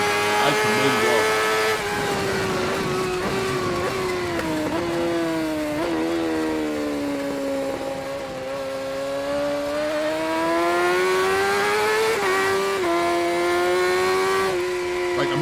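A BMW HP4 Race superbike is heard onboard at racing speed, its engine screaming at high revs and shifting pitch steadily through gear changes for the whole stretch, loud and close, with faint talk underneath.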